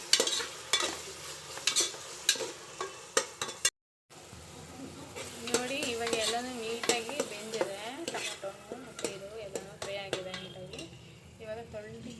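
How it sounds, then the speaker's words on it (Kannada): Chopped tomatoes fry in a pan as part of a palak chicken dish while a utensil scrapes and clinks against the pan in repeated strokes over a soft sizzle, with a brief dropout and a voice speaking under the stirring. "ಟೊಮೊಟೊ ಹಾಕಿ ಹಾಕ್ಕೊಂಡಿದ್ದು ನೀಟಾಗಿ ನೀಟಾಗಿ ಫ್ರೈ ಆಗಬೇಕು"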